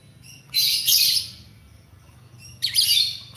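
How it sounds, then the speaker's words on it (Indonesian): A pet lovebird chirps in two quick bursts of sharp, high chattering calls, separated by a short pause, close and clear with no talking. "Jadi lovebird ini kok malah doyannya ngekek."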